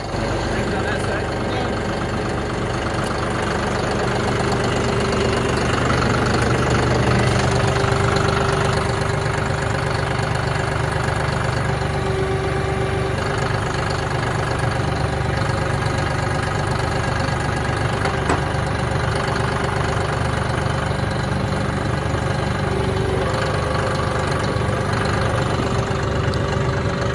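A tractor engine on a beef farm idles with a steady low rumble and rattle, running continuously at a constant pace throughout.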